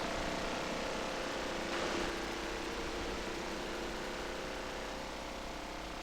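A TB2 Bayraktar drone flies in the video game Ravenfield, its propeller engine giving a continuous, even drone at moderate distance, with no other sounds breaking in.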